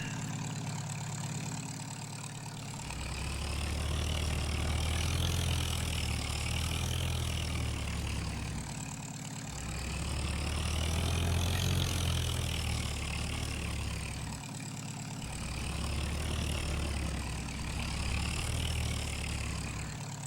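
A tractor engine hums steadily while spreading lime on fields in a farming video game, a low continuous drone that swells and eases in slow waves.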